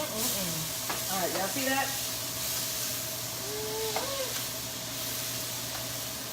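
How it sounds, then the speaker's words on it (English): Garlic, onion and peppers sizzle in a hot pan with a steady, soft hiss while someone talks over it. "Y'all hear that sizzle?"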